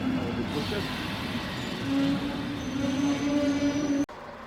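A train rumbles and slows into a station with a sustained squealing tone from the wheels, then the noise cuts off abruptly near the end.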